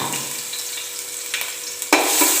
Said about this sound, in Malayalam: ഇനി ഇതിൻ്റെ പച്ചമണം മാറുന്നത് വരെ ഒന്ന് വഴറ്റി കൊടുക്കാം